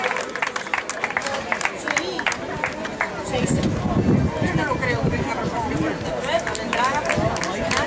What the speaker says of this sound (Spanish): Fuerte aplauso para estos corredores esforzados